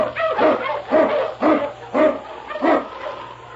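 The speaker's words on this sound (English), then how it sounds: "King, the swiftest and strongest of Eskimo lead dogs, blazes the trail through storm and snow" A husky lead dog barks in a steady series of about six loud, evenly spaced barks, close by and with no talking over them.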